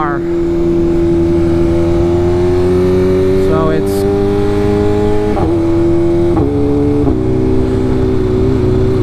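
A Dodge Hellcat car engine revving and accelerating on a road, a loud steady drone whose pitch climbs through several gear changes, heard close and continuously for about nine seconds.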